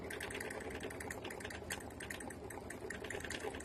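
An embroidery machine stitches card designs with a fast, continuous mechanical chatter and whir, steady and evenly textured but faint and distant, with no talk.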